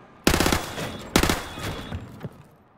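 Two loud, close bursts of rapid automatic gunfire in a Call of Duty target drill, each a quick rattling string of shots, followed by a fainter single report.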